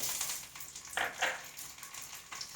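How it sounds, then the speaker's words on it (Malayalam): Mustard seeds dropped into hot coconut oil crackle and sizzle in quick bright bursts over a soft frying hiss, close by and without speech. "വെളിച്ചെണ്ണ ഇവിടെ ചൂടായി വന്നിട്ടുണ്ട് അതിലേക്ക് ഞാൻ കടുക് ഇട്ട് കൊടുക്കുന്നുണ്ട്"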